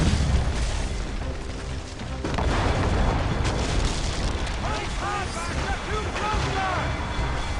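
Cannon fire in a naval battle in Assassin's Creed Rogue, heavy booming blasts rumbling over ship noise and battle chaos, with voices shouting in the mix.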